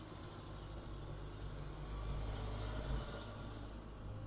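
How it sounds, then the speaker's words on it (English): A loud car passes by outdoors, a steady low rumble that swells toward the middle and fades slightly, with no talking over it. "Loud car is loud."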